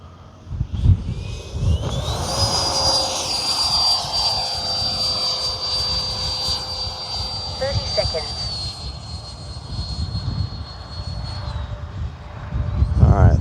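A Freewing 90mm F-22 RC jet flies with a high, steady electric ducted-fan whine that holds, then dips and falls away, under rumbling wind and outdoor noise. A voice is heard faintly in places.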